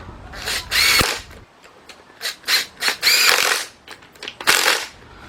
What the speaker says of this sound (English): I'm going to be using my cordless impact. Let's get those tightened up.